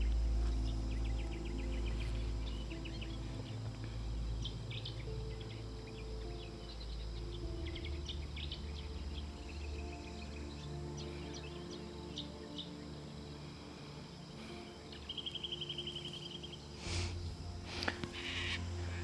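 Birds chirp and trill sporadically outdoors, scattered small calls over a quiet, steady low hum with no voices.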